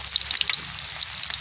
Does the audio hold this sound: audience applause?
no